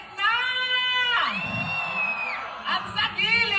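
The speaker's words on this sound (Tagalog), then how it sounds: "Hiyawan naman doon sa dulo!" Pageant crowd cheering and whooping for a beauty pageant self-introduction, loud sustained high-pitched shouts and yells from many voices, swelling and overlapping, close and lively.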